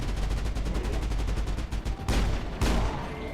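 Rapid automatic gunfire from a squadmate in the Mass Effect video game, a fast regular burst of shots followed by two heavier blasts, loud and close.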